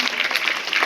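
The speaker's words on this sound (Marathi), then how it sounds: "यांनी सर्वांनी या चौघांसाठी टाळ्या वाजवा" A crowd claps for four participants at a Swachh Maharashtra solid waste management awareness event, a steady close burst of applause with no pause.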